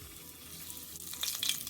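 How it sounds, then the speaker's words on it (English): Oxtails sizzle and crackle in hot oil, a soft steady fry that grows a little louder and brighter near the end. "Hear that sizzle?"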